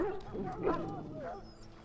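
Whimpering and soft whining from a sick Mabari war dog in the fantasy game Dragon Age: Origins, a thin, plaintive cry wavering over a low background rumble for about two seconds.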